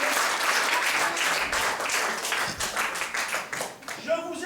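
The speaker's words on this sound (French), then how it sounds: "En principe, on applaudit pour le respect de son nom." Theatre audience at a live comedy show in Vitrolles bursts into dense, sustained applause that fills the room, thinning slightly near the end as a voice begins to speak.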